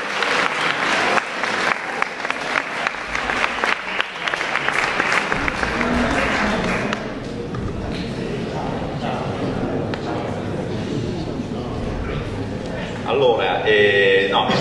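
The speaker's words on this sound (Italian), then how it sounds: "un applauso al nostro sindaco." An audience claps for the town mayor at an Italian talk, with loud, sharp clapping and voices at first, settling into a softer, even wash of applause that swells again near the end.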